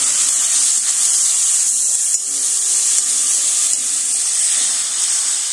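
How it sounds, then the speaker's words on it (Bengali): Chopped tomatoes dropped into masala frying in oil for a tomato chicken curry produce a loud, continuous hiss and sizzle with little change throughout. "এবার সেই যে কুচিয়ে রাখা টমেটো কুচিগুলো সেইগুলো দিয়ে দিচ্ছি।"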